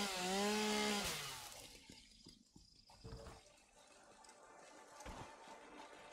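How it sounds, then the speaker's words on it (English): Chainsaw in the video game Satisfactory, cutting through vegetation in a loud buzzing burst over the first second before giving way to quieter scattered crackles and thuds. "I do like their new sound volume. The chainsaw used to be extremely annoying to even hold in your hand."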